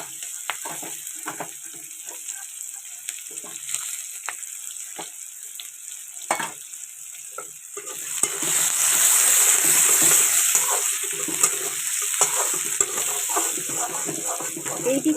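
Onions with whole garam masala and cumin in a hot wok (kadai), quiet spoon scrapes and taps at first, then a loud steady sizzle as the onions drop into the oil and keep frying.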